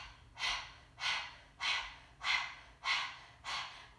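Rapid panting breath through the mouth in a breathing exercise: six evenly spaced breathy bursts about two-thirds of a second apart, close and clear, with no talking.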